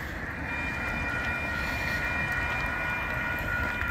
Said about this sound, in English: And there's a train coming.